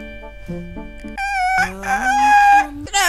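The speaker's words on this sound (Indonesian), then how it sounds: "Kenapa suara Abi kayak ayam?" A video game character gives a loud, squawking, rooster-like crow in rising and falling tones, close and clear over a quiet game backdrop.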